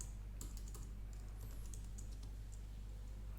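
Quiet, rapid clicking of a computer keyboard as code is typed, irregular keystrokes heard close over a low steady electrical hum, with no talking.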